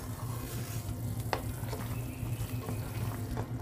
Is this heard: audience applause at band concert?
no